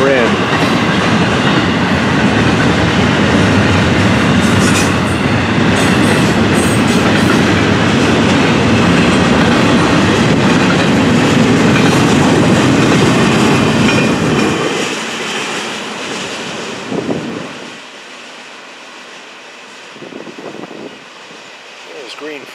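A long double-stack freight train rumbles past with rhythmic wheel clatter and squeals, loud and close, then fades away to quiet ambience near the end.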